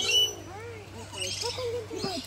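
Birds call and chirp inside the aviary at Cebu Safari in the Philippines, quick whistly notes close by over a low hum, with people talking nearby.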